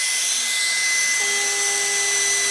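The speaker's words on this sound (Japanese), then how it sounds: "それでは従来型のファンを置いてみますね。" A conventional 30 mm square high-speed cooling fan runs on 8 volts, giving a steady loud airy whine with a high pitched tone and a lower hum that comes in partway through, with no voices.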